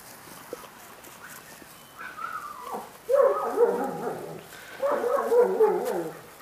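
A rescued golden retriever gives several short whining, barking bursts, fairly quiet and close, growing a little stronger toward the end with brief pauses between.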